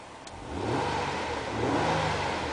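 A 2010 Nissan Maxima SV with a 3.5 liter V6 revving while parked, the engine note rising in two sustained surges over a steady idle, loud and close with no talk.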